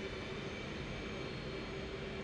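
F-18 jet engine in the DCS flight simulator game, a steady droning whine with a faint high tone, holding constant and alone without talk.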